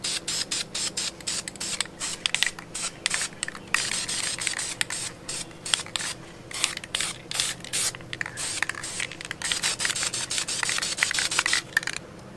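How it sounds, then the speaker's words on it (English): Aerosol spray paint hisses in repeated short bursts, laying a blue coat over primer on a Mini Cooper brake duct inlet, close and steady with brief gaps between passes. "spray another coat on it"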